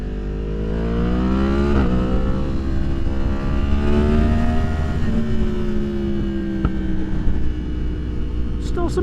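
Yamaha MT-10 motorcycle with a Leo Vince slip-on exhaust rides hard, its rising engine note steady and loud with scattered popping and crackling from the exhaust, wind and road noise underneath.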